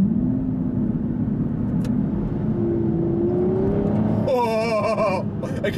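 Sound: Aston Martin V12 Vantage S 5.9-litre V12 accelerating in Sport mode

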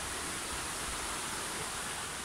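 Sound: mountain stream flowing through a gorge

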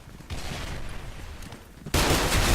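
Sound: M870 shotgun firing in Special Force 2 video game

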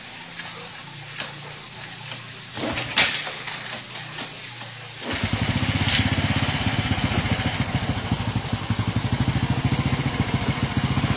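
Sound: motorcycle engine started, said to run on drinking water

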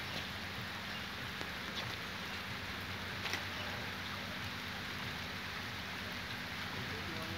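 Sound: heavy rain

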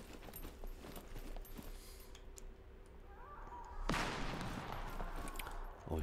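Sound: gunshot in video game SCUM

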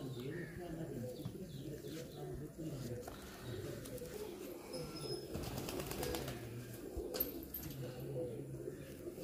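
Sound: pigeons cooing

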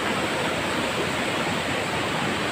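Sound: heavy rain and swollen river

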